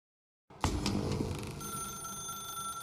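A telephone rings in the video game The Stanley Parable Ultra Deluxe, starting abruptly after silence with a sustained bright bell tone that fades slightly, alone and moderately loud.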